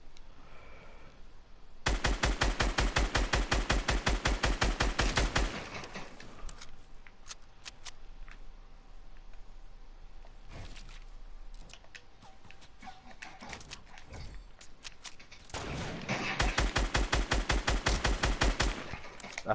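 Rapid automatic gunfire from a multiplayer shooter game, a dense sustained burst of rapid shots, then scattered single shots and sporadic fire, ending in another long rattling burst, all close and loud.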